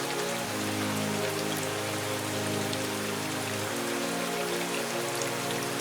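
Steady rain patters on surfaces in a Hindi cartoon, a dense, even hiss throughout with low sustained musical tones underneath.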